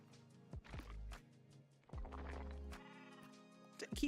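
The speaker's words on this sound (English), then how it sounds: "Keep trapping that poor sheep." A sheep bleats twice in the cozy building game Tiny Glade, with short plucky effects and soft ambient tones in between and faint footstep-like taps.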